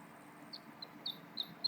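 In the Super Auto Pets video game, a faint, small rooster-like clucking sounds as a few short chirps spaced through the moment, ending in a slightly louder call, with no talk over it.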